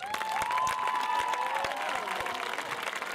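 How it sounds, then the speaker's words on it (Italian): A crowd at a summer youth program's closing evening claps and cheers for three cooks, a dense, steady wash of applause with scattered louder claps and some voices mixed in. "vogliamo per loro un grandissimo applauso"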